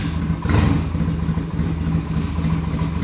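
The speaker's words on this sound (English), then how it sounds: "let me fire it up for you guys and let you hear what this thing sounds like with the baffles removed" A Yamaha Virago 250cc motorcycle with its exhaust baffles removed runs loud and close, a cold engine idling with a deep steady throb and a brief blip of revs near the start.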